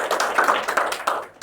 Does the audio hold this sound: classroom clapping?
yes